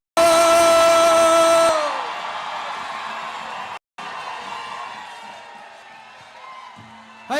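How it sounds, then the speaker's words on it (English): A huge rally crowd of about 100,000 on City Hall Plaza in Boston cheers and roars for the Dropkick Murphys, a broad sustained wash of crowd noise following a brief tonal sound at the start. "Boston, give a round warm of applause for the Dropkick Murphys"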